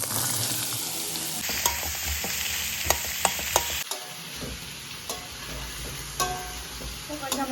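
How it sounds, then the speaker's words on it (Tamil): Mango pieces sizzle in hot oil in a kadai while being made into mango thokku pickle. A constant close frying hiss runs throughout, punctuated by repeated sharp scrapes and taps of a stirring spoon against the pan. "இப்போ கடாயில் எண்ணெயை ஊற்றிங்கோ. இப்போ சோந்தோட மாங்காயை போட்டுங்கோ."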